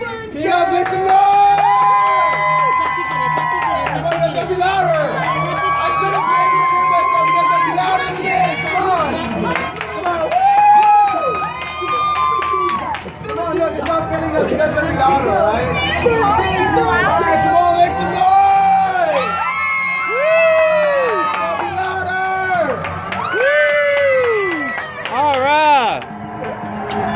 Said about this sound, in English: Cheer and clap your hands as loud as you can.